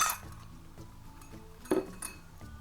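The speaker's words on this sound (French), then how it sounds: "J'ai aussi mon bol et mon fouet pour bien fouetter notre pâte." A toy bowl and whisk are handled, giving a handful of light, faint clinks and taps spaced irregularly, with one brighter knock near the end.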